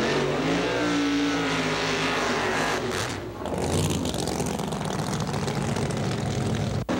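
Alcohol funny cars drag race, a Pontiac Trans Am against an Oldsmobile Cutlass on a Calgary quarter-mile strip: a loud, roaring engine howl that sweeps past, cuts sharply, then another engine growls on, with no talking.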